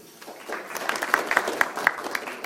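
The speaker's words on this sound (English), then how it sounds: "A big round of applause also to the organizers of the event, SR Events, represented by Mr. Javed Mohamme" Scattered, fairly sparse handclaps from a press conference audience for the event organizers, a few sharp claps standing out over a thin bed of clapping in a short burst.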